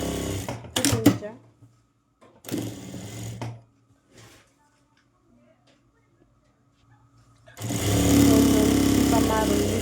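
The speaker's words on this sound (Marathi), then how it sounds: "टिपा मारून घेते मी" A sewing machine stitching a blouse whirs in short bursts between stretches of a woman's speech, then runs in a longer steady burst at the end, close and clear.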